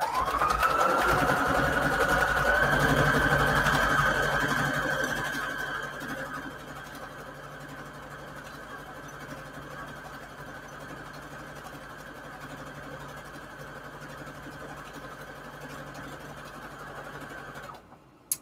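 Sewing machine running a decorative T-shaped corner stitch, number 57, on fabric, a continuous close mechanical whir that is louder for the first few seconds, then settles to a steady hum until it stops.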